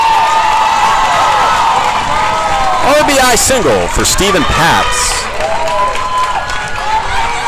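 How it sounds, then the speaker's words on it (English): Crowd at a high school baseball game between ISM and ISB, steady murmur and cheering throughout, swelling briefly after a hit, heard beneath an announcer's continuous play-by-play commentary. "The crowd's really coming alive here."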